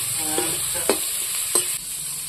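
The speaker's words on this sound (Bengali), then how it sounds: "দেখো উচ্ছে ভাজা হচ্ছে" Bitter gourd frying in a pan, a continuous bright sizzle under a few distinct scraping strokes of a spatula, close and fairly loud.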